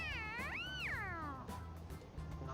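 Morgana, the cat character in the video game Persona 5, lets out a single drawn-out meow that rises and falls in pitch, clear and close over a quiet low background hum.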